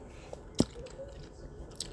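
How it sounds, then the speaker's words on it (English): Gummy bears chewed close to the mouth make quiet, wet, squishy chews with one sharper bite click, faint against a soft background. "Sorry, I'm chewing gummy bears."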